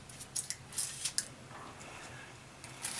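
A knife slices the ends off a red onion on a cutting board, giving several short, crisp cuts close by in the first second, then a quiet pause and a couple more faint cuts near the end.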